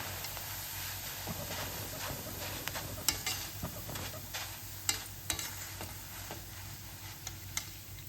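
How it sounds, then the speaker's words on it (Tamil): Peanuts fry in hot oil with a steady close sizzle and hiss, punctuated by scattered sharp ticks and pops as they are stirred in the pan. "நம்ம இந்த எண்ணெயிலேயே நிலக்கடலையே பொரிச்சு எடுத்துடலாம்"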